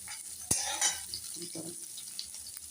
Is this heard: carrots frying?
yes